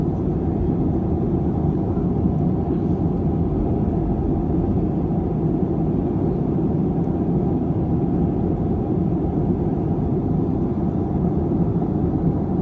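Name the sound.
Boeing 737 flying through turbulence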